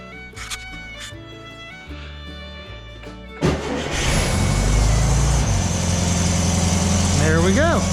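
A 1968 VW Beetle engine fitted with a new aftermarket carburetor sputters to life after some mechanical clatter and then revs loudly and roughly close by, with a voice speaking near the end.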